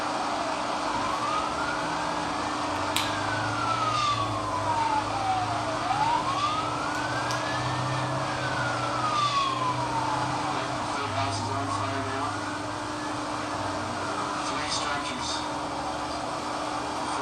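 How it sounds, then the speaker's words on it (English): Emergency siren wailing in the background, rising and falling in long sweeps as it passes, steady and moderately faint beneath a constant low rumble of ambient noise. "You can hear the siren in the background now."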